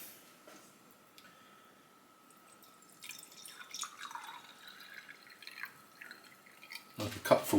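Water from a jug trickles and drips into the base of an Italian Bialetti Bia2 stovetop espresso maker, quiet at first and then building into a clearer splashing pour, with a soft voice in the background.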